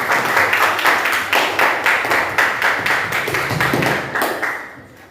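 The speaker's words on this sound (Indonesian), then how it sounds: "Kita beri tepuk tangan dulu untuk yang piket hari ini." Classroom students clap their hands together in a fairly loud, evenly spaced rhythm of about a dozen beats, synchronized group claps that fade out toward the end.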